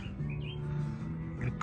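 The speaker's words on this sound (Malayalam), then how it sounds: "കിളിയുടെ ഒച്ചയൊക്കെ വന്ന്." Birds chirp faintly in the background with a few short, high tweets over a low, steady indoor hum.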